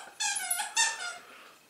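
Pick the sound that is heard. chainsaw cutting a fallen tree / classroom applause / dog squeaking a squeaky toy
dog squeaking a squeaky toy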